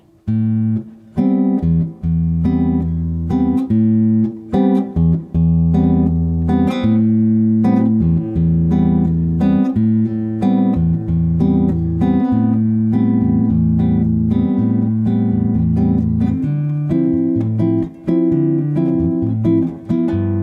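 Guitar strums a bossa nova rhythm, syncopated chords over low plucked bass notes that mimic an upright bass, played steadily and close for the whole stretch without speech.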